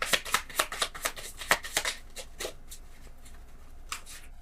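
Rapid riffling and slapping of a tarot deck being shuffled, a quick burst of crisp snaps that slows and thins out, with a final soft flick.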